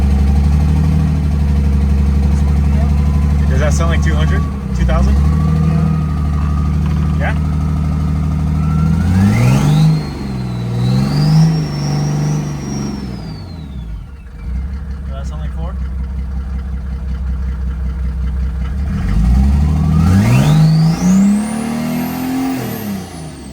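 Turbo diesel engine of a converted Mercedes 380SL idling steadily, then revving up twice with rising whine and settling back, up close and loud, with someone talking over it.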